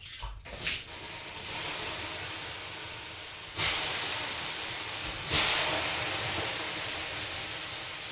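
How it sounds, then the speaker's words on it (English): Water splashes onto hot sauna stones with a sharp sizzle, then a long steady steam hiss, with two more bursts of sizzling hiss following. "That sound you hear is water hitting the hot stone and turning into a steam."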